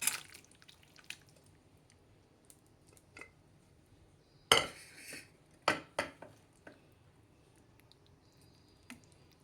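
Mutton with bhindi curry being spooned into a serving bowl: scattered wet plops and a few sharp clinks of a spoon against the dishes, close and sparse, with no talk.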